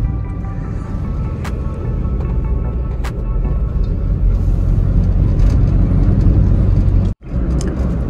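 A car cruising along a mountain road between hills near tunnels, steady engine and road rumble from inside, a brief dropout near the end, no talking.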